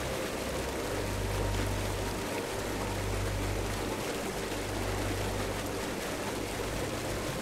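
Little waterfall in the game Tower of Time: continuous rushing, trickling water with a deep rumbling undertone, steady and unbroken throughout with no voices over it.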